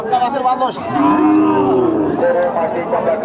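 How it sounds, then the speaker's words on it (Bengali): A Gabi cow moos loudly and close at the Boalia cattle market in Sirajganj, where it stands with a heifer calf. One long, drawn-out call rises and falls over a faint murmur of the crowd. "দেখেন এই সুন্দর একটি গাবি গরু সাথে একটি বকনা বাছুর দেখেন"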